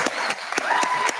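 An audience applauds with a few separate, sharp claps spaced across about a second, faint crowd murmur and a brief voice underneath.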